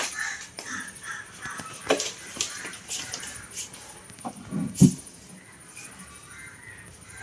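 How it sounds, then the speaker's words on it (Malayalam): A crow caws several times at moderate distance, with short harsh calls scattered across a quiet outdoor background. "കാക്ക"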